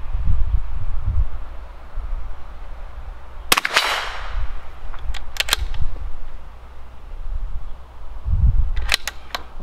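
Sharp cracks from a Bergara B-14 .22 LR rifle fired at a target 50 yards away outdoors: one clear report followed by a few more quick snaps, over soft wind and rustling.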